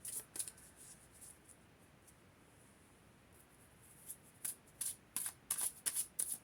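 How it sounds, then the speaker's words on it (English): Quiet stretch of faint rustling, then a rapid series of crisp bursts as a tarot deck is riffled near the end, close and fairly soft. "Okay, I'm going to give this deck a shuffle."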